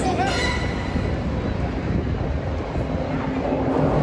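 A subway train rumbles loudly through Bay Station, an underground station in Toronto, with a steady roar and a brief squeal of wheels at the start.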